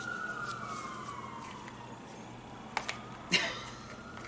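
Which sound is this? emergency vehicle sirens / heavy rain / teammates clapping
emergency vehicle sirens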